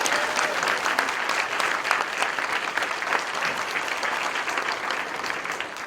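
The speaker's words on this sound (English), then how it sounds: "So, again, a big round of applause again for you." A conference keynote audience gives sustained, loud applause, with dense clapping that keeps going throughout and trails off only slightly near the end.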